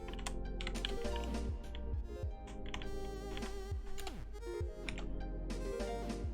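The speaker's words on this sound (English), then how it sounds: "I'm just typing a lot without actually saying anything" Rapid, busy clicking on a computer keyboard, heard continuously under a steady tonal background.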